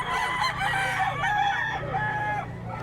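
Stag roosters at the Bocaue pet market on a Friday tiangge day: a nearby rooster lets out a loud, drawn-out crow lasting a couple of seconds over low background market noise.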